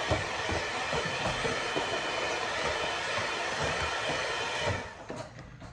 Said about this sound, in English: I'm just gonna go with my hand mixer again once I added the flour.